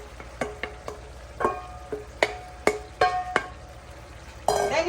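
Saltfish (salted codfish) going into a hot pan for pressed plantain, then stirred: a run of sharp scrapes and light clinks of a utensil against the pan over a low sizzle, with a brighter burst near the end.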